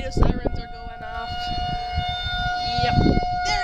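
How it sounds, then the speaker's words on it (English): Distant tornado siren holding a sustained wailing tone outdoors in the rain, with voices talking over it. "Tornado sirens are going off."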